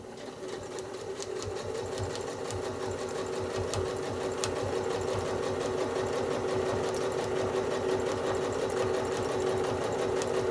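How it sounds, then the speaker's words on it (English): Sewing machine quilting straight lines across a four patch quilt block, a fast continuous rhythmic needle chatter with steady motor hum, close and sustained throughout. "How have you felt about stitching those straight lines, Josh?"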